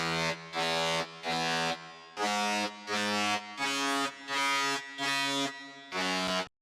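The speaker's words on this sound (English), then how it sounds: "It's like a pretty basic lead" A basic synth lead repeats buzzy, sustained chord-like notes in an even pulsing rhythm, each note held briefly with short gaps between.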